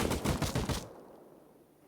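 Automatic gunfire sprayed from a rooftop in the game Rust during a 3v3 base-raiding tournament, a loud rapid burst of shots for under a second, then fading to quiet.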